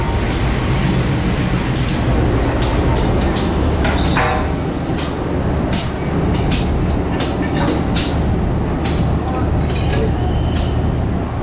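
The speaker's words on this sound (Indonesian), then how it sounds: "itu pengoneksian antara lokomotif dengan rangkaian kereta" A locomotive couples to a rake of passenger cars at Surabaya Gubeng station, Indonesia, with a series of sharp metallic clanks and knocks over a loud, constant engine rumble.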